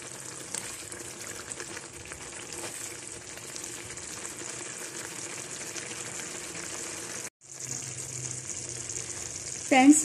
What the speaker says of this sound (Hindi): चिकन को अच्छे से भून लेते हैं।